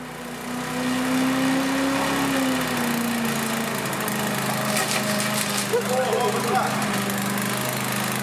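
A homemade robot lawn mower runs and cuts grass, its small engine droning loudly and steadily at close range, rough and rattly as it falls apart, with faint crunching bursts near the end.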